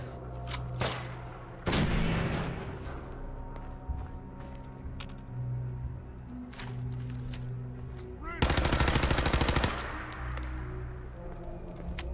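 Gunfire in Fallout 4 Survival Mode along the Freedom Trail: several sharp single shots, then a loud sustained automatic burst near the end, over steady game ambience.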